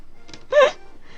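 A young kitten gives one brief, close meow indoors in a small bedroom, over faint room noise.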